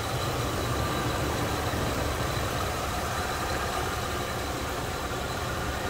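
A 1989 Cadillac Brougham sedan engine idles smoothly with a steady, even low rumble. It is loud and continuous, with no voices over it.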